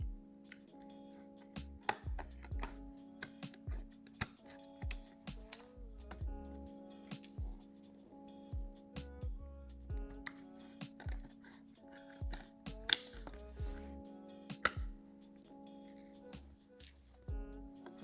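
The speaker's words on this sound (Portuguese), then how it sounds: "a gente começa a cortar" Scissors snip through recycled faux crocodile material cut out for a pouch, a steady series of close, sharp clicks and snips with short pauses between cuts, over a quiet room hum.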